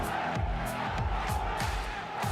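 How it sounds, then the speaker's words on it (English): A large live crowd at the Apex Legends esports world finals roars and cheers continuously, loud and dense, with a commentator's voice riding over the top. "the crowd are cheering 1 more game"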